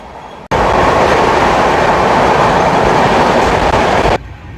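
The Howrah–Puri SF Express 12837 runs on a winter night past Balichak station, heard from inside a compartment as a loud, dense, continuous rumble and rattle that starts abruptly and fades away near the end.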